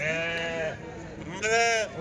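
Two loud, wavering sheep bleats close by at a sheep and goat market, the first long and the second after a short pause, with faint background noise between.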